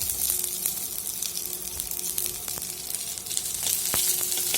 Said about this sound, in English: Now we will add lastly all the chopped onions